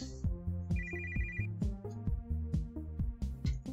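A phone call rings in the video game Always Sometimes Monsters, a repeating electronic ringtone pulsing in regular bursts, loud and close, with no one talking.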